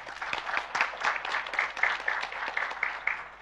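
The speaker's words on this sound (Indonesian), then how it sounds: "Tepuk tangan buat yatim kita." An audience at an Islamic sermon applauds, a dense and steady burst of many hands clapping together for several seconds.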